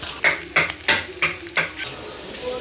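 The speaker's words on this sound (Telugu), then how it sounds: "మటను ఫ్రై అవుతుంది ఫ్రెండ్స్." Mutton fries in a pan with five evenly spaced scraping strokes of a spoon over a low sizzle, close up and without talk.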